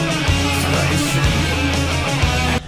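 A song plays in its remastered version as loud, full heavy metal with distorted guitars and drums, then stops abruptly just before the end.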